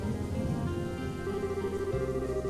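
Steady rain falling in the video game Trails in the Sky, a dense continuous hiss of drops over a low tonal game-music bed, with no voices.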